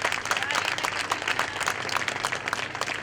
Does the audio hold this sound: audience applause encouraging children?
yes